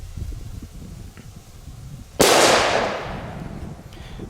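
An Achtung H1 firecracker explodes in a single sharp, loud bang, its echo rolling away over the next couple of seconds against quiet outdoor background.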